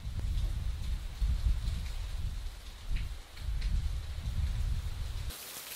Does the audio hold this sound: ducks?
no